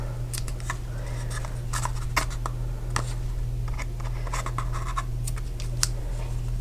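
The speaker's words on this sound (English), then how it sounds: "we'll come in with our scissors and go ahead and cut the tails" Scissors snipping paper ribbon tails on a small stamped sour cream treat holder craft: a quick series of crisp, close cuts and light scrapes, fairly quiet over a steady low hum, with no talk.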